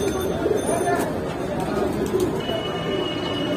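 Pigeons coo and flutter at a crowded pigeon market, a mass of soft low coos close by with brief wing sounds, as vendors and buyers talk over the din.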